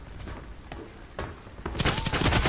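AK-12 rifle fire in the shooter game Contract Wars, scattered shots early on giving way to a loud, rapid sustained burst of automatic gunfire in the final second.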